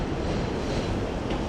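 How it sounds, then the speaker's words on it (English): A New York City subway train passes above ground, giving a dense, steady roar of wheels on elevated track, broadband and continuous, with no voices. "I'm really fascinated by the subway trains passing above ground with the views of the city"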